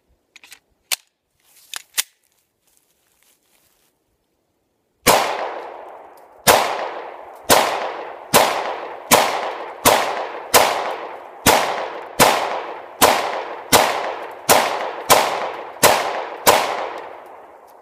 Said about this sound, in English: Glock 19.